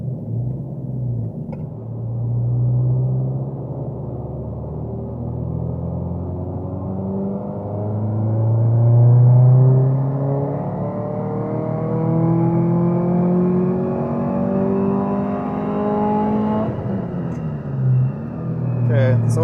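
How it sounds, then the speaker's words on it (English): A Subaru STI with a wastegate set near 18 psi runs hard at wide open throttle, its engine note climbing steadily in pitch through a long pull, then dropping sharply before rising again, loud and close. "we're going to move on to doing some wide open throttle pulls."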